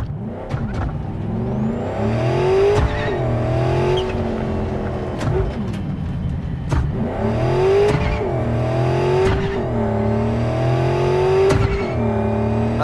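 A car in Cyberpunk 2077 pulls away and drives off, its engine revving up and shifting through gears in repeated rising sweeps, loud and close for the whole stretch with brief faint talk.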